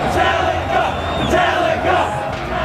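Concert crowd waiting for the band to take the stage: a loud, continuous roar of massed voices with scattered shouts and whoops rising through it.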